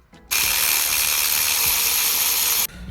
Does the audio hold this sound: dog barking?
no